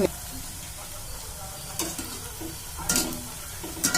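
Gulab jamun dough balls sizzling in hot oil, a steady close fizzing hiss with a few sharper crackling spurts as pieces drop in.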